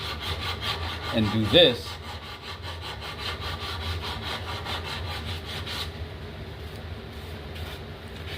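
Folded belt-sander sandpaper rubbed by hand across wood, giving a close, rough rasping scrape in repeated strokes, with a brief spoken remark near the start.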